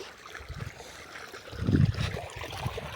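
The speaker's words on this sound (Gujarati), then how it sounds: "આપણે આ મશીનનું પાણી આવેલું છે" Water pumped by a machine rushes and gurgles steadily along an open irrigation channel in a farm field, with a low rumbling undertone that swells briefly midway.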